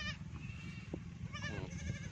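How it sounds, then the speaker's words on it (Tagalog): Domestic goats on a rural Philippine rice farm bleat a few times, fairly faint and a little distant, over steady outdoor background noise. "Dito may mga alaga dito na kambing."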